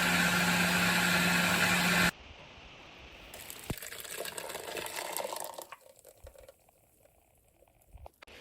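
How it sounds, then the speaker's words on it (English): A kitchen blender purées bell pepper, onion and scotch bonnet with water for Nigerian jollof rice, giving a loud, steady motor whir for about two seconds that cuts off into quieter clinks and handling noise. "We begin by blending this mixture together."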